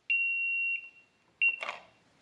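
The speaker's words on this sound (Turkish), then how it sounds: "Butona basıldığında ya da sensör tetiklendiğinde binanın sirenleri çalıyor." A building fire alarm siren gives a steady, piercing electronic tone for under a second, then a second tone cuts in and is followed by a short rustling clatter.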